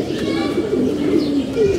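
Several young pigeons coo in low, throaty warbling calls, close by and continuous, with soft overlapping bird vocal tones through the short stretch.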